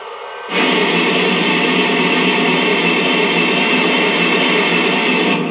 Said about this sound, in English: Here's the sound of steam being released from the cylinders,